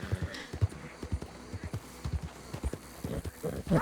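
Horse hooves in Red Dead Redemption 2, a sturdy mare clip-clopping in a steady rhythm, close and clear, with some talk.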